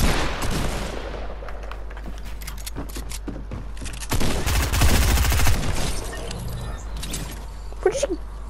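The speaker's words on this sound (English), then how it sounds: "That's the first SMG I've ever just heard." SMG gunfire in the Fortnite video game, rapid clattering bursts of shots at fairly close range, with a louder flurry midway through, over a steady low game hum.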